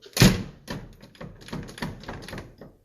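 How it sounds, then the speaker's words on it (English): A 1960s–70s Camaro door that is slightly off its track gets bumped shut, giving a sharp close knock followed by several lighter rattling taps. "doors off track a little bit. Little fun thing you gotta do here is you gotta get on up against it, bump it, and it closes."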